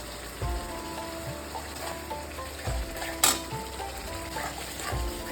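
Masala sizzling and frying in a pan for egg masala curry, a steady crackling hiss with a few soft stirring knocks and one sharp clink.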